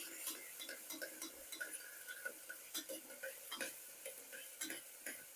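Vegetables including tomato sizzle quietly in a pan while a utensil stirs and scrapes with irregular taps and clinks, fairly faint throughout.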